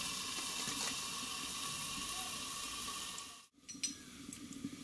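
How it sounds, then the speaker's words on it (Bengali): Water is poured into a hot pan of pumpkin stems, a steady hissing sizzle that cuts off abruptly, then resumes in short bubbling bursts; nearby and without voices. "এবার এখানে আমি অল্প করে একটু জল দিয়ে দেবো"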